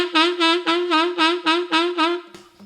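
A reedy woodwind tone held on one pitch, pulsing in six or seven heavy, barking throbs of vibrato, close and loud with no voices.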